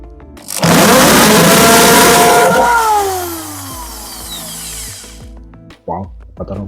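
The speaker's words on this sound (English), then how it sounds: "As he does drilling." A power drill bores into the metal of a lowered Toyota Yaris for a speaker mount, whining loudly close by with pitch sliding down as it bites, then stopping, followed by a few clunks and handling noises.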